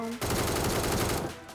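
Rapid automatic gunfire in the mobile shooter Metro Royale, a dense sustained burst of shots fired close and loud for about a second before cutting off, with a voice speaking briefly at the start.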